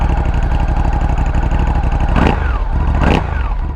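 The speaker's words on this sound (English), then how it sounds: "Doesn't this exhaust sound so nice from the back? Like, that's the engine note" A vehicle's exhaust note rumbles loud and steady from behind, a throaty mid-pitched drone with brief surges of revving partway through.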